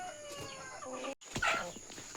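A Black Australorp chicken on a farm clucks in a few short, nasal, close calls, with a brief gap and then a louder, brighter cluck, while quieter fowl sounds carry in the background.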